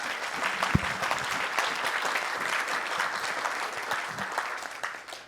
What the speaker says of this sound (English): Big round of applause for Jonathan Rosenberg.